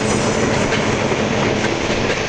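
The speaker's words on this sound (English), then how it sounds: "RS3 with a commuter train." An Erie Lackawanna commuter train hauled by an RS3 diesel locomotive rolls past in the Jersey Meadows, a loud, steady roar of wheels and rail clatter with no voices.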